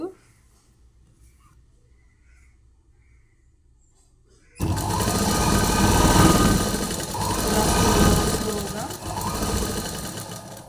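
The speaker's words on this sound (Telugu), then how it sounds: "స్లో స్లోగా కుట్టుకోవాలి ఆగుతూ ఆగుతూ లేకపోతే నొడత వస్తుంది" A sewing machine stitches polish trim onto a saree, starting abruptly after a near-silent stretch and running loud and steady with slight surges and slowdowns, alone without talk.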